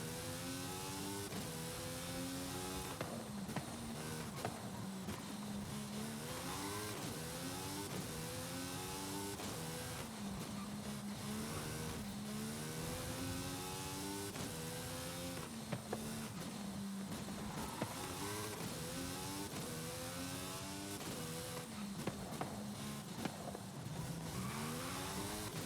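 A Mercedes AMG race car drives a racing circuit in Forza Horizon 5, its engine loud and close, revving up and down steadily through repeated gear shifts and accelerations.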